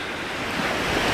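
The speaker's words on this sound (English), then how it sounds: "I can still see everything is moving about and hear the wind blowing" Wind blows hard at Eas Mor waterfall in Kildonan after a heavy overnight storm, a dense steady roar of rushing air and water buffeting the microphone, loud and unbroken, with no voices.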